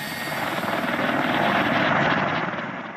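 Chinook helicopters at Kabul airport give off a loud, dense, continuous rotor roar with rapid chopping pulses, close and steady for about three seconds with no speech.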